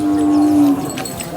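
A young bullock calf bred for racing moos once at the Sangola cattle market, a loud, close, sustained low call lasting under a second, followed by faint market background noise.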